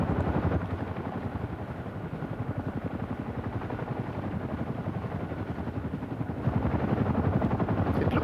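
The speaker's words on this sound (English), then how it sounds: "What it actually is a Boeing Chinook HC-1 of number 240 Operational Conversion Unit at Odium in Hampshire." Boeing Chinook HC-1 twin-rotor helicopter from an operational conversion unit in Hampshire flying at an air display, giving a steady, loud rotor thud with rapid rhythmic chopping that grows slightly stronger near the end, with no voices.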